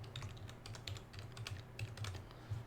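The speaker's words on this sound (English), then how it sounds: "Typing is hard." Steady, rapid clicking of a computer keyboard being typed on, fairly faint and close, with no talking over it.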